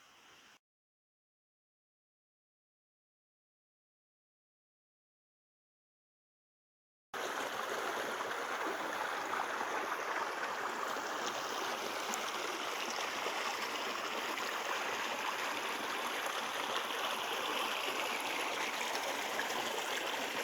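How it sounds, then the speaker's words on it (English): A steady rush of running stream water fills the space, constant and fairly close, after a brief silent stretch at the start; outdoors in the Wairarapa, New Zealand. "I just love the sound of running water."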